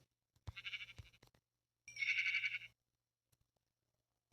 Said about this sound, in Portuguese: Achei 3 ovelhas.